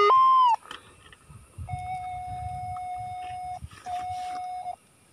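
Algoforce E1500 metal detector giving off electronic signal tones: a bright rising beep, then two long steady mid-pitched tones with a short break between them, heard over faint rustling handling noise in the background.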